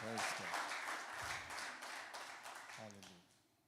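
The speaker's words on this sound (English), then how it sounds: "Give the Lord a hand clap of glory." A church congregation at a Sunday young adults evangelism service claps hands together in a dense burst of applause, with a preacher's voice talking over it near the start and end.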